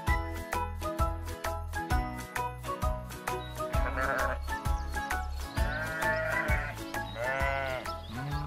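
Sheep bleating on a farm, several loud wavering bleats rising over a steady rhythmic backing beat, with repeated calls close by and no talking.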